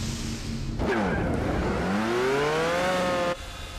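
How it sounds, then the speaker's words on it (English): Mercedes CLK race car in the Gran Turismo 4 video game sweeping past with a loud rising engine whine and Doppler pitch bend, a steady roar over a background drone, then cutting off abruptly. "See, there goes the other CLK now. He's blasted through."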